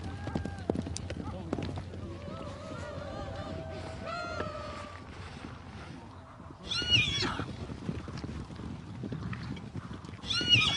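Horses on the steppe: hooves clip-clop and a horse whinnies, with louder bursts of movement near the end, heard mostly under a narrating voice.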